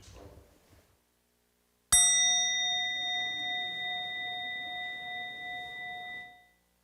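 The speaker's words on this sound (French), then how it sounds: "on peut suivre son souffle et suivre le son de la cloche." A single meditation bell is struck once after a short silence, ringing out clear and bright and slowly fading over several seconds.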